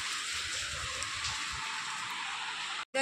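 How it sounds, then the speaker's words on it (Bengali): Steady, even hiss of rain falling, constant throughout, with a brief dropout near the end. "কি হচ্ছে বৃষ্টি।"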